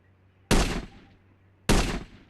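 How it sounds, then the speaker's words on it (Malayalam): Two sharp gunshots ring out about a second apart in the Indian Bike Driving zombie survival game, each a loud crack with a short decaying tail. "സോമ്പിന്ന് തന്നെ വെടി വെച്ചോട്ടെ."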